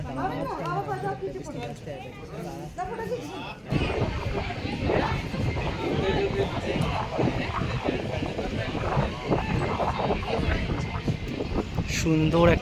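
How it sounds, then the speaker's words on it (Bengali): Wind blowing outdoors at the Dhauli hill stupa near Puri, buffeting the microphone with rough low rumbling gusts that grow stronger partway through, while people talk over it. "হাওয়া দিচ্ছে"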